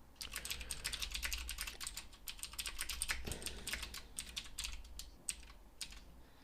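Someone types Python code on a computer keyboard in a rapid, uneven run of soft, close keystrokes with brief pauses, and no one talks.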